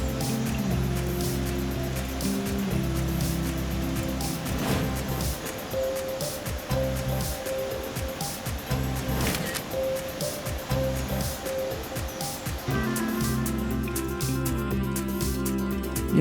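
The Urukh river rushes through a narrow rocky gorge in the North Ossetia mountains, a loud, continuous roar of fast water that stays steady throughout, with other sounds layered on top.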